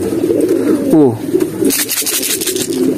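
A pigeon wearing a blue leg ring coos close by, a soft throaty call rising and falling, with light rustling and background noise around it.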